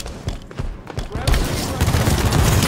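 Beam rifle fire in Halo 5 multiplayer: sharp sniper cracks early, then a dense burst of overlapping gunfire and explosive booms builds and sustains, loud and close in a busy firefight.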